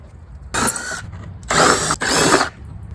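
A ratchet wrench clicks in three quick bursts, close and loud with short pauses between, while removing the license plate bracket from a 2006 Jeep Wrangler TJ.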